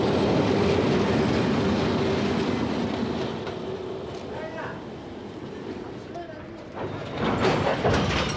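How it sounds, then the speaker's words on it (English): Train shunting in a railway yard, a loud rumbling roll of rail cars with faint squeals, fading somewhat mid-way before swelling again, heard alone without talk. "the stillness is broken by an orgy of shunting"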